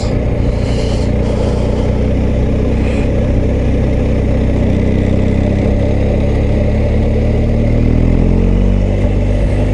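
A BMW R1250GS motorcycle with a quickshifter runs loud and close, its boxer engine thrumming steadily with a heavy low drone and rising pitch sweeps as it revs up while riding, over wind noise.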